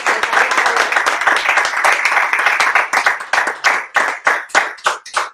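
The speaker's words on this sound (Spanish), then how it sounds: "Denle un aplauso al Señor" Church congregation applauding together, dense clapping close by that thins into slower, separate claps, with no talking over it.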